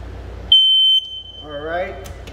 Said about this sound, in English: This is a second smoke alarm that's in the hallway.